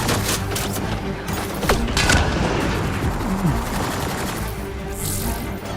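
Gunfire rattles in bursts and single shots through a first-person shooter game, dense and fairly loud throughout, with a booming hit and the game's background sound behind it.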